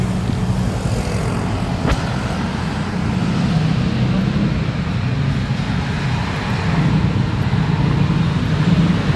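A dense Bangkok street roars with motorcycle traffic, a steady low rumble of engines passing nearby with a brief sharp click early on, while a voice talks over it.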